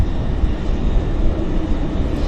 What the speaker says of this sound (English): We've got this BizJet. It's about ready to power out.